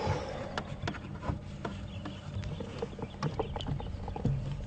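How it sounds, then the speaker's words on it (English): Several wattled starlings call in scattered bursts of short sharp notes against a quiet outdoor background, some near and some farther off. "Sounds like still a lot of wattle starlings about."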